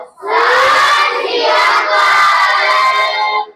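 A Sikh congregation roars back the jaikara war cry in unison, a loud sustained collective shout of many voices held for a few seconds before cutting off.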